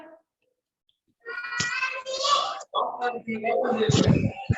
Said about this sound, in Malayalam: Okay, give clap.